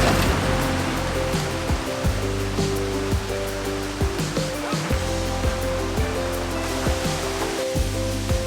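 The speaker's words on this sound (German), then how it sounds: "Wir sind bei den Scheidecker Wasserfällen" The Scheidegg waterfalls in the Allgäu rush in a loud, steady wall of water, close and continuous, broken by a few brief dull thumps.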